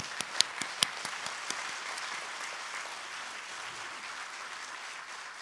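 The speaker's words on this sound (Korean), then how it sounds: "하나님께 영광의 박수를 올려드립니다." A church congregation at an opening worship service breaks into applause, a few sharp individual claps at first swelling into steady, dense clapping that fills the room without speech.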